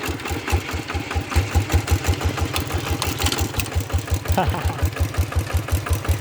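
An RT100 walking tractor engine thumps in a steady, rapid single-cylinder rhythm while plowing a paddy in first gear with steel wheels, loud and close, with a voice speaking briefly over it.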